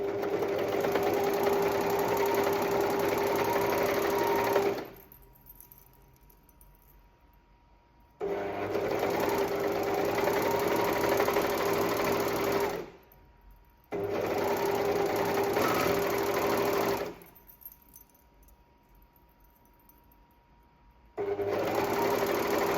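A sewing machine stitches together skirt panels cut from thrifted animal-print sweater fabric, running in about four loud, steady bursts with quiet pauses between them.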